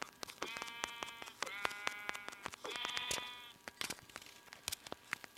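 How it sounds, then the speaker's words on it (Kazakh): Sheep bleating in Minecraft: three drawn-out, wavering bleats in a row, set among sharp clicks and taps, fairly quiet overall. "Қойлар осы өлтіп тастайын."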